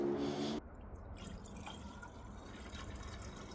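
Deionized water poured into the cooling system of an E46 with a V8 swap, a soft continuous gurgling and trickling fill, faint and close, after a short burst of louder noise at the start.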